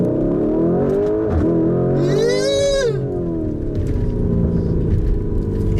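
A 2019 Lamborghini Urus SUV engine runs with a steady low roar, then surges in a brief rising, whining rev midway through before settling back to a constant drone.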